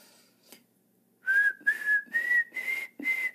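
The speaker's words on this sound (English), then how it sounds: "Can you whistle it back to me?" A person whistles a short tune after a brief pause, about five clear sustained notes in a steady rising line, close and alone with no talking.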